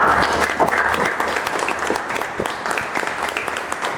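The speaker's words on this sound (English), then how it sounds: "welcome him with a huge round of applause, guys." Steady, close applause from an audience welcoming an interview guest, a recommended candidate from an Indian military officer selection board. Dense clapping carries on evenly for a few seconds with no one speaking.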